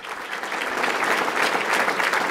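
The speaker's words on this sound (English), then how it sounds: "I think we should give them a round of applause." Brief burst of audience applause at a Chicago mayoral candidate event, many hands clapping in a dense, steady wash that swells slightly toward the end.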